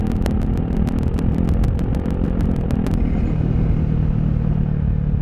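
A Honda Rebel 250 SE motorcycle with E-clutch downshifting while riding at speed, a loud engine drone with wind rush and rapid clicking pulses that ease off as the revs settle lower.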